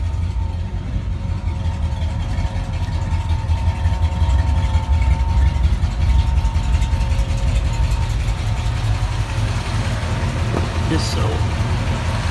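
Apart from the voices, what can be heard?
1965 Ford Ranchero engine revving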